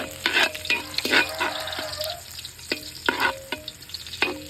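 Garlic sautéing in a pan for duck adobo, giving a continuous close sizzle broken by repeated spatula strokes and scrapes against the pan, in a quick uneven rhythm.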